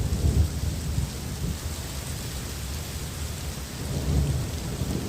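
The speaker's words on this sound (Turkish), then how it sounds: "Dolu tekrar başladı." Hail falls again during a storm, a dense, continuous patter and hiss of ice and rain striking surfaces, with low rumbling swells, heard steadily with no voices.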